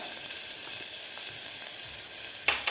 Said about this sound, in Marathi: आपल्याला फ्रेशच लसूण घालायचं आहे ते सुद्धा आपल्याला परतून घ्यायचं आहे